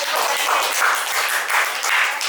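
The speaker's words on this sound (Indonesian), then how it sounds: "Tepuk tangan untuk kelompok." Steady applause from a school class, continuous clapping filling the classroom at a fairly even level with no talking.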